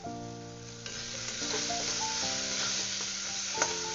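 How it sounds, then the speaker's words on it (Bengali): Green plantain peel paste sizzles as it is stirred in a frying pan. The soft, steady frying and scraping sit under louder background music. "এইভাবে সমানে এটাকে নাড়তে থাকবো।"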